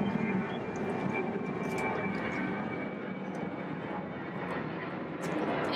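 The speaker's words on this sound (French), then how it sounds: "il y a des avions qui passent, ça fait un peu de bruit" Airplanes pass high overhead as a steady, distant engine drone that stays faint and continuous, with no talk over it.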